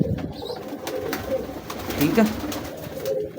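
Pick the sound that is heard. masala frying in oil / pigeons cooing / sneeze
pigeons cooing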